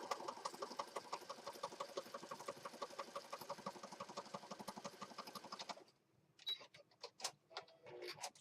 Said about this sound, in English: So I'm just going to start here at the top and just do a quick zigzag stitch.